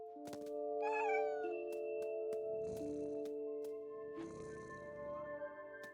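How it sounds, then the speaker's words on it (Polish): A cat in the video game What Remains of Edith Finch meows angrily in several drawn-out, wavering yowls over steady game music, loud and close. "Jaki wściekły kot."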